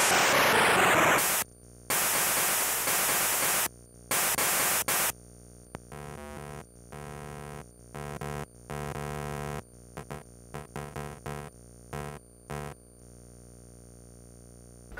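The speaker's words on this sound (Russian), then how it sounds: "небольшой и схематичный генератор случайных звуков. Три канала и настройка скорости" A random sound generator program on a Nintendo Game Boy bursts out in loud static noise and tonal chiptune beeps, short choppy blocks separated by quiet gaps.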